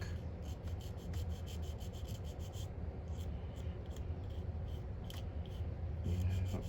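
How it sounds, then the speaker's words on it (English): Continuous scratchy rubbing of a sanding stick, steady and close, with faint clicks here and there and no talking. "Just run my sanding stick."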